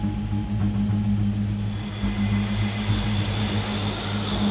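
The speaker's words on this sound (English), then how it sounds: "the Navy calls in the Grumman C-2 Greyhound" A Grumman C-2 Greyhound, a high-wing twin-engine Navy cargo plane used for aircraft carrier operations, drones with a steady, loud propeller-engine hum that holds even throughout.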